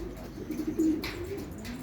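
Pigeons coo softly in a low, rolling murmur at close range, a single drawn-out call with no talk over it.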